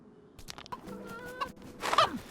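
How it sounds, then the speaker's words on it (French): A chicken in the video game DayZ clucks in short, throaty bursts, ending with a louder squawk, against quiet background noise. "Là je vais trouver une petite poule,"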